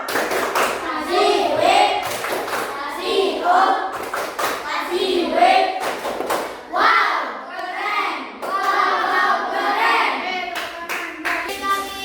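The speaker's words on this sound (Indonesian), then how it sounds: "Oke, tepuk tangan dulu." A class of children claps in a rhythmic clap-and-cheer routine, sharp bursts of clapping alternating with shouted chanting voices, repeating in rounds close by.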